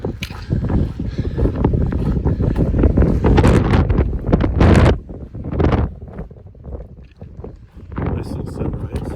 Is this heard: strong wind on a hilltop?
yes